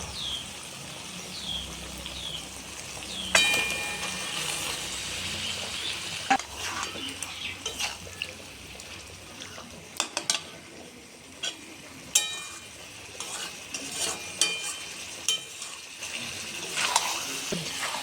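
Marinated methi chicken sizzles and fries in oil with tomato in a pan, with repeated scraping stir strokes from a spoon and sharp clinks against the pan over a steady crackling hiss.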